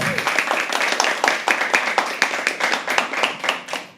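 Close, crisp clapping from a small audience at a live poetry open mic, individual hand claps distinctly audible in a brisk, uneven rhythm throughout.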